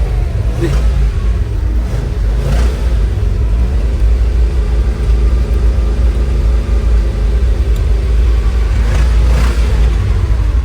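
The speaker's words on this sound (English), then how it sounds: "It's running while it's in neutral" A Ford car engine with a starter problem runs steadily in neutral, a loud continuous low rumble close by with a few faint rises in revs, no talk over it.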